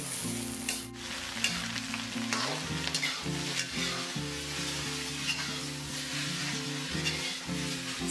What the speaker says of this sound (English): Stir-fry until the noodles are fragrant